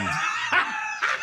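A pet dog in the house barks and howls nearby. Two or three yelping cries come at a steady pace over a constant background hum.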